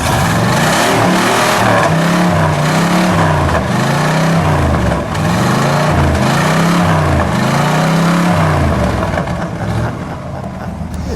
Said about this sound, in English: Kevin, give it a rev.